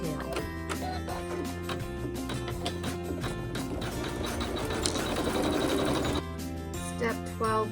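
A sewing machine runs steadily, taking quilting stitches through layered fabric, with a continuous mechanical whir that holds close and loud throughout.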